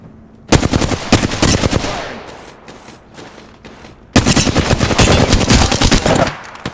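Rapid automatic gunfire bursts from Apex Legends gameplay, loud and dense, with a long volley, a quieter gap of scattered shots, then another sustained barrage.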